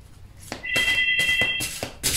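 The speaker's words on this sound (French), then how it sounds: "c'est le téléphone de la maison qui sonne" A house telephone rings indoors, with a short electronic trill repeating in bursts over about two seconds, fairly loud and close, with no talking.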